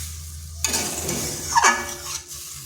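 Water poured into a pan of frying egg and flat bean curry, then stirred: a burst of sizzle and splashing followed by scraping spoon strokes, close and fairly loud, with no voices.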